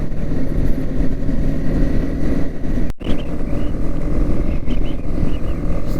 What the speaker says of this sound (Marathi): KTM adventure is class bike.